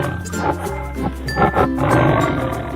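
A tiger in a 3D animal slide game lets out a loud, rumbling roar that swells and falls in a few surges, close and dominant.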